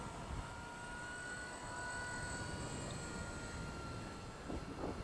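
A WLtoys V950 entry-level 3D RC helicopter flying in idle-up mode outdoors in wind, its rotor and motor whine droning steadily at a moderate distance, with shifting tones and no talk.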